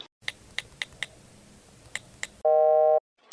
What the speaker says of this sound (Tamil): என்ன ரிங்கு போயிட்டே இருக்கு எடுக்க மாட்டேங்க